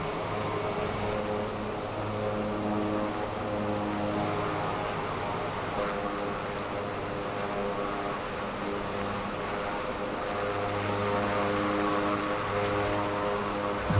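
Draco X aircraft in the video game Microsoft Flight Simulator 2024, a steady engine drone with a droning hum throughout, continuous and fairly loud, with no talking.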